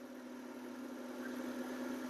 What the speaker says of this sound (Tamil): வண்டி இன்ஜின் பார்த்திங்கன்னா அந்த ரேசிங் ஆகி அப்படியே நல்லா ஐடிலிங்கில் அப்படியே ஓடுற மாதிரி இருக்கும்